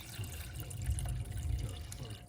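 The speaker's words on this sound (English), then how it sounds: "So you take your pitcher of water and pour about half of the water in to boil." Water poured from a pitcher into a pot to be boiled for a hibiscus drink: a steady, close splashing pour with low gurgling, heard alone.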